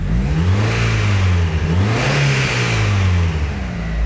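The engine of a first-generation Mazda Miata with a bad engine revs hard and holds a loud, steady roar with a slight dip and rise in pitch, close up and continuous.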